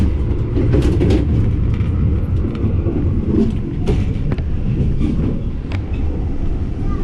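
Running steadily, the Parahyangan passenger train gives off a continuous close rumble with recurring sharp clacks of wheels over rail joints throughout, and no voices.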